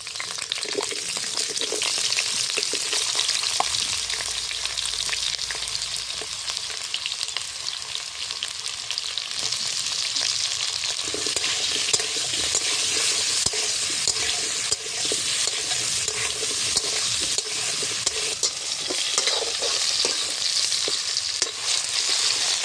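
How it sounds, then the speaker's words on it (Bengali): Potatoes fry in a pan of hot oil for a Bengali country duck curry, a steady dense sizzle running throughout with occasional stirring scrapes, close and without talk. "প্রথমে আমি আলুগুলি বেজে নিচ্ছি"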